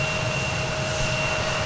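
Airplanes take off from runway 36 right at Dallas Fort Worth airport, a steady loud jet roar with a sustained engine whine and no pauses.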